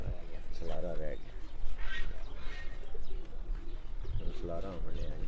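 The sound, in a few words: pigeon cooing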